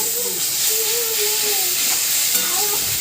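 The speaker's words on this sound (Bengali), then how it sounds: "এরপর এটাকে একদম লো হিট দিয়ে ভাজবো।" Coconut prawn masala with tamarind pulp fries over low heat, giving a continuous close hiss and sizzle with faint wavering tones running through it, and no voices.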